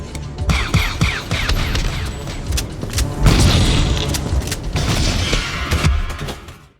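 Gunfire in a Terminator 2 video game as the evil Terminator and the kind Terminator exchange shots: dense, loud bursts of booming blasts and rattling fire, nearly continuous through the clip with heavy low thuds.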